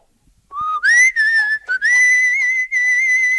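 A clear, loud whistled tune with sustained, sliding tones and short breaks, performed alone as the melody from the French comedy Les bronzés font du ski.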